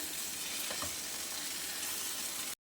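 Sliced capsicum, carrot and cabbage sizzle loudly in a hot pan while being stirred, a close steady hiss with a couple of utensil knocks before it stops abruptly.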